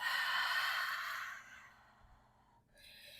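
A long, breathy exhale during a yoga-style sculpt workout, loud and drawn out for over a second before trailing off into quiet, heard alone without talk.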